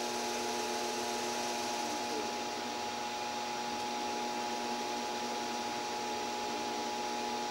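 DC spindle motor on a small CNC machine running at low speed, a faint steady whine with a slight drop in pitch as it slows, continuous and without speech.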